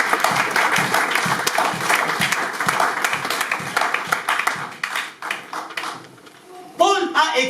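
A church congregation applauds and cheers for the Lord, a loud, dense burst of clapping and shouts that thins out toward the end, with a voice speaking over it.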